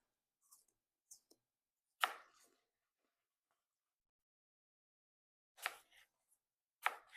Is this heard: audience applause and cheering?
no